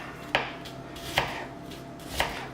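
Onions being chopped on a board for an omelette, three firm knife thuds spaced about a second apart, close and clear with no talking.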